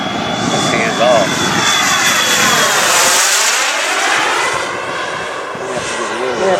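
A 2M Rebel RC airplane's engine drones at half throttle, loud and steady with a Doppler sweep as it passes overhead, while people talk faintly nearby.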